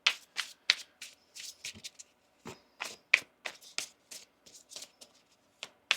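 Tarot cards shuffle and riffle in quick, crisp bursts with brief pauses between, close and fairly quiet.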